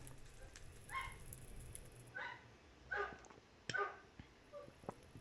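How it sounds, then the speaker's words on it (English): A dog whines and yips faintly from a distance, four short whimpering bursts spaced about a second apart over a low background hum. "I don't know if you all can hear one of my dogs whining, but I sure can."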